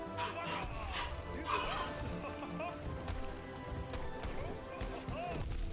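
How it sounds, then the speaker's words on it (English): Several excited pet dogs bark and yip in the background of a home, reacting to someone arriving, fairly faint and partly under someone talking. "Apologies if you guys can hear my dogs going crazy."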